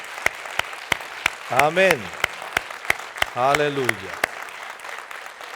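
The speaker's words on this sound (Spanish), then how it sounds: "Un aplauso a nuestro Señor Jesús" A church congregation claps in a steady, regular rhythm. Two loud voices shout in praise over the clapping.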